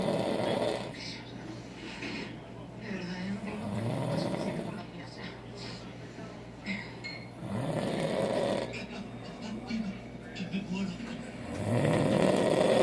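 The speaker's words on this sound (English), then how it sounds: "So cute, with the loudest damn snore." A man snores loudly while sleeping, with deep rasping breaths that rise and fall in a slow repeating rhythm, each one ending in a low rattling growl, close and dominant.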